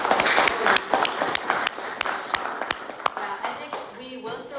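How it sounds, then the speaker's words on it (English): Audience applause for panelists at the close of an intern panel, a moderate round of clapping from a seated group with sharp individual claps standing out as it slowly thins, a voice speaking faintly over the tail end. "I just wanted to give another round of applause for our panelists"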